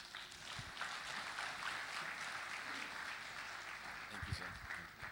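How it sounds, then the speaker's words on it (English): Steady applause from a conference audience at an oil and gas industry opening ceremony, a dense continuous wash of clapping lasting throughout, moderately distant. "Please, one more time, another round of applause for Total."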